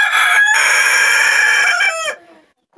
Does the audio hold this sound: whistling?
no